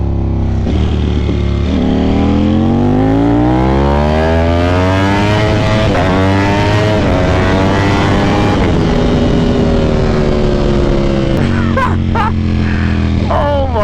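A Ducati Panigale V4 SP2 motorcycle with a BT Moto Stage 2 ECU flash makes a very loud, close full-throttle pull, its engine note climbing steadily through the gears with brief dips at each shift.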